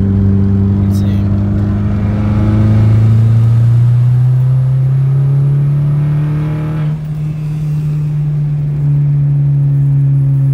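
A car accelerating hard in low gear with its wheels spinning, a loud, close engine drone rising steadily in pitch and then holding, with a brief dip partway through.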